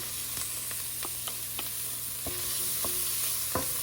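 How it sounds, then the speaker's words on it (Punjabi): Onions sizzling in a pan with ginger-garlic paste, a steady close frying hiss broken by several light spatula scrapes and taps, with no one speaking. "ਹੁਣ ਥੋੜੇ ਪਿਆਜ਼ਾਂ ਨੂੰ ਭੁੰਨ ਲਵਾਂਗੇ"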